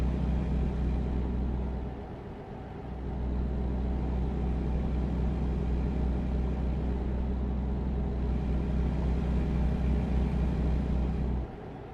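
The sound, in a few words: truck engine rumble in American Truck Simulator video game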